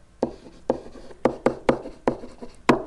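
A marker writing on a board during a geometry lesson, making six or seven sharp, evenly spaced strokes about half a second apart, close and clear with no talking.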